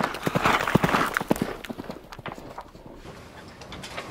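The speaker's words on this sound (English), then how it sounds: "I do, of course, like riding a horse." Horse hooves clip-clop in a quick, uneven rhythm, fairly close at first and then growing fainter.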